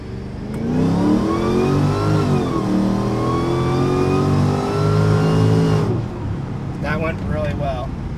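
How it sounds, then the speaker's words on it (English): A Mercedes with an upgraded 722.6/NAG1 transmission accelerates hard from first gear, engine note climbing and dropping through quick successive upshifts, then fading to a calmer cruise with brief talk near the end. "try to do a full pull, and make sure it'll actually shift and go through all the gears really quick"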